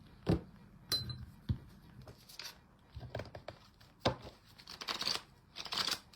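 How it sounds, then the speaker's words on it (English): Oracle cards are shuffled in a quiet room, a series of soft, irregular papery riffles and taps with short pauses between them, close and faint, with no talk. "Shuffle our cards."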